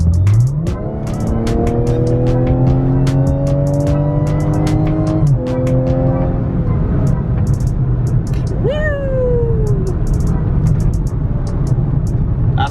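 A Honda CRX engine revs up under load with rising pitch, climbing steadily for several seconds, then drops and climbs again before easing off, loud and close with no talking.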